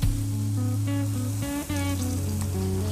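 Beef kebabs on a grill give a steady close sizzle and crackle that runs unbroken, with faint clinks and scrapes over it and no talking.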